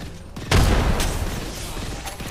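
Frag grenade thrown and detonating in the video game Apex Legends, heard as a sudden loud blast that swells and then decays into rumbling game noise, with a second fainter burst near the end.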